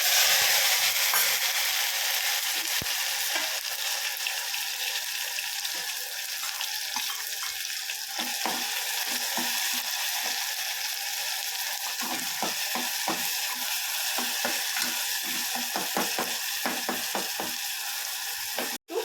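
Mustard seeds and two chopped tomatoes hit hot oil for a sev tomato sabzi, a loud steady sizzle with a dense spray of pops and crackles that continues alone throughout.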